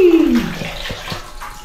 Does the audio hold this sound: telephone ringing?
no